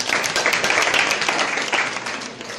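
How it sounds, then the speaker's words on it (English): Seminar attendees on stress give a short round of applause for a participant, a burst of scattered, close hand claps lasting a couple of seconds before fading. "A round of applause for her."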